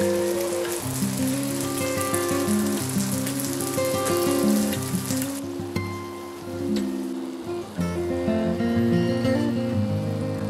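Churros fry in hot oil, giving a loud, continuous close-up sizzle and bubbling crackle that dips briefly partway through before resuming.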